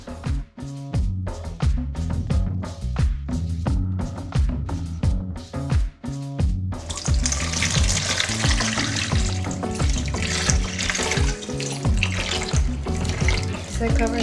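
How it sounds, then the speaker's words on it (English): Water running into a bowl of peeled mangoes, a steady splashing, gushing pour that grows denser and louder after a series of short clattering knocks. "You're going to cover them up with water all the way."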